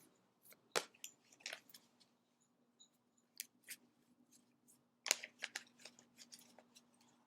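Sharp, sparse clicks and small clacks sound close by in an otherwise quiet room, coming in irregular clusters with short pauses between.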